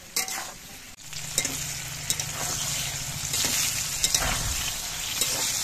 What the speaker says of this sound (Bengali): এবার এই তেলের মধ্যে দিয়ে বেগুনগুলো ভেজে নিতে হবে।